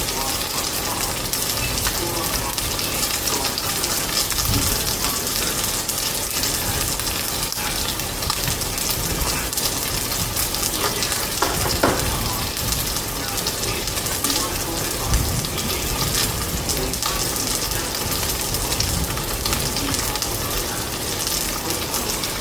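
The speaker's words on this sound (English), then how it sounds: "we'll let that saute for a little bit more" Food sautéing in a pan on a kitchen stove gives a steady, dense sizzle that holds at an even level throughout, with small crackles scattered through it.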